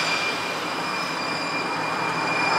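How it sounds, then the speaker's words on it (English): An electric train in San Francisco rolls past nearby with a continuous steady rumble and high metallic wheel squeal, dense and unbroken throughout. "Train in SF, powered by electric."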